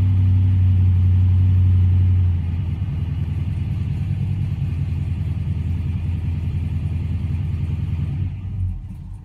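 American muscle car engine held near 1,000 RPM, a deep loud steady rumble close by that drops slightly after a couple of seconds, then sags and stumbles near the end.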